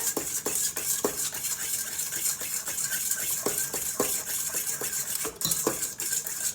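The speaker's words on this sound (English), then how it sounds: "you set it over a double boiler, and you stir it constantly until it all dissolves" A spoon stirs a raw egg mixture for marshmallow frosting in a bowl set over a double boiler, giving close, steady rhythmic scrapes and light metallic clinks that repeat without pause.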